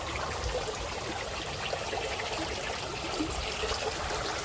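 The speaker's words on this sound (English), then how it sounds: "And here's our fountain." Backyard garden fountain trickling water in a steady, continuous babble, close and even in level throughout with no pauses.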